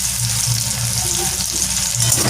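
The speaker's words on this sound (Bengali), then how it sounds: "গন্ধ ছাড়লে পেঁয়াজটা দিয়ে দিলাম" Onion sizzles in hot oil in a pan along with three dried red chillies, a steady, close, crackling fry that hisses continuously without a break.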